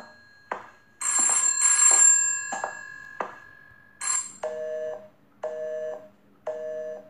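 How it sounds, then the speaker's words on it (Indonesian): A telephone rings in the horror video game Headaches, bursts of bright electronic bell trills separated by short gaps, then several shorter repeating tones, loud and close with no talk over it. "Ada suara telepon."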